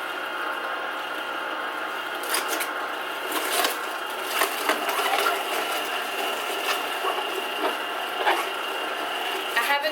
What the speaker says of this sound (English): the machine is just sucking up the produce and processing it